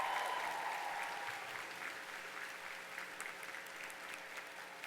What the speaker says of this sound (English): Graduates and families, please join me in giving them a big round of applause.